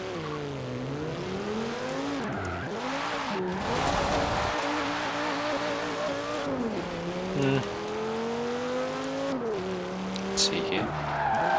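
A stock 2009 Audi RS 6 drifting in Forza Horizon 4, its engine droning and shifting in pitch under sustained tire squeal and skidding, with a voice talking over it.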